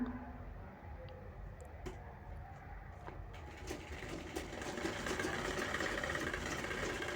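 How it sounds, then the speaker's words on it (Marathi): A sewing machine stitching a cloth bag for keeping vegetables in the fridge, with a steady mechanical whirring hum that grows louder in the second half. "इथे मार्जिन सोडून आपल्याला शिवून घ्यायचं आहे"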